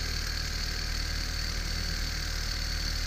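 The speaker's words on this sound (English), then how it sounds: "Right now the engine's running pretty good." A small Stirling engine driving a little generator runs with a steady, continuous mechanical hum and whir, even and unbroken throughout, close by and with no voices.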